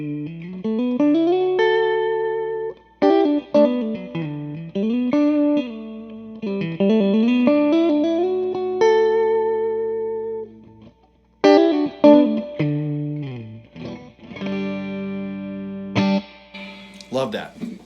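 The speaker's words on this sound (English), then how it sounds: "some clean signal going through with some reverb on a really tasty tone of your guitar" A clean electric guitar plays melodic phrases and sustained chords through a Fender Blues Junior amp, with a washy reverb tail lingering after each note; no one speaks.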